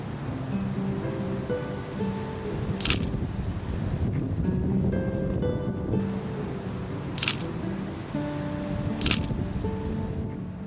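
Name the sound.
wind at Palm Springs City Hall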